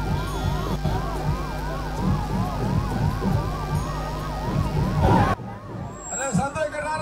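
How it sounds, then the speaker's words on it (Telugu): An ambulance siren wails in a rapid rising-and-falling cycle during a Vinayaka Chavithi immersion procession, loud and near for about five seconds before cutting off abruptly, with crowd noise and voices around it. "అంబులెన్స్ ముందు తీసుకురా తొందరగా"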